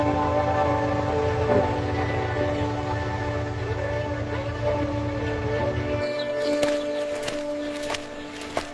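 A train rolls along a railway line through the town of Patiya with a steady, loud rumble for about six seconds, then the rumble cuts off into quieter clanks and faint rail noises.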